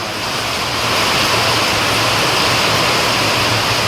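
Heavy rain in a village windstorm pours in a dense, loud, unbroken roar that swells slightly after the first second and then holds steady.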